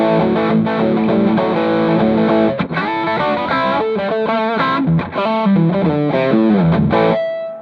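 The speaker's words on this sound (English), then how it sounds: "let's go ahead and hear what the dirt sounds like on the bridge pickup on this guitar" Electric guitar through a Devilcat Jimmy amp, overdriven on the bridge pickup, churning out loud distorted chords and riffs with short pauses between phrases, close and alone.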